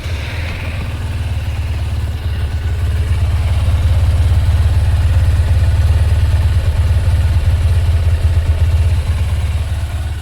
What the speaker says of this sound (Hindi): तो ये था आइडल में इसका साउंड